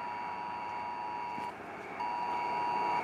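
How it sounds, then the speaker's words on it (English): A phone sounds an emergency Amber alert: a steady, loud electronic tone that cuts out for about half a second partway through and then resumes. "Why is my phone making that noise? Amber alert."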